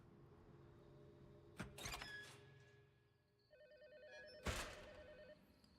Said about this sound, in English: like there's a phone ringing, right?